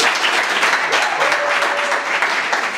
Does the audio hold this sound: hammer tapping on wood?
no